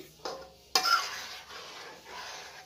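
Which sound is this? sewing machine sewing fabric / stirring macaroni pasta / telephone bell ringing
stirring macaroni pasta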